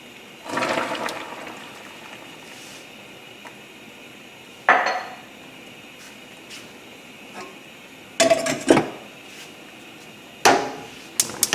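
Pots and pans clatter in a home kitchen as fresh green beans go on the stove. A rushing, watery sound opens, then a few separate sharp metallic clanks and knocks follow at intervals.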